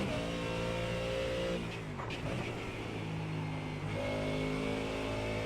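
A race car engine in a racing game on the Nürburgring drones steadily, then the pitch dips as the throttle lifts and climbs again as it accelerates, with a loud, continuous close-up tone and no talk.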